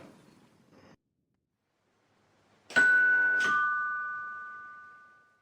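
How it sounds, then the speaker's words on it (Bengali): A two-tone ding-dong doorbell chime rings once, its tones hanging and slowly fading, after a brief low rumble and a moment of quiet. "কলিং বেলটা বাজালাম।"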